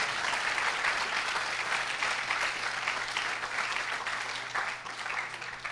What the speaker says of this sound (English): I really want you to give a giant round of applause to those new hackers.